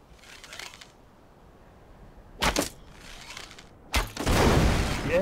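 Two sharp bursts ring out as barrels explode in the video game Enshrouded, the second a heavier explosion that lingers into a rumbling roar, with faint rustling between.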